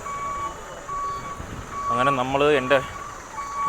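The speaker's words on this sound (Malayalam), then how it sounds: "ഈ സൈഡ് ഫുള്ള് വണ്ടി ബാക്ക് വരുന്നുണ്ട്" Reversing beeps sound from vehicles, mostly Tamil Nadu trucks, backing up on a busy road near the Papanasam temple area, a short run of repeated electronic tones in the middle over traffic noise, with someone talking before and after.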